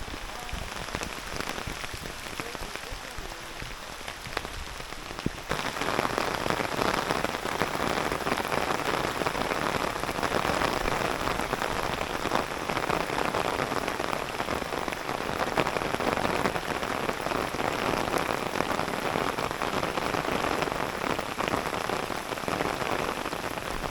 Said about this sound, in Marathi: अरे अरे अरे आला आला पाऊस. पोचला आपल्यापर्यंत, पोचला पाऊस.